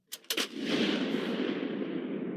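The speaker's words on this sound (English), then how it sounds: "This is video footage of U.S. Marines firing off howitzers last year." A 155mm howitzer fired by U.S. Marines: two sharp cracks lead into one huge, booming blast that rolls on as a sustained roar.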